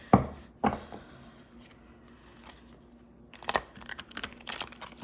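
Tarot cards being shuffled by hand, sharp riffling bursts near the start and again later, separated by quieter handling rustles, close and fairly soft with no speech.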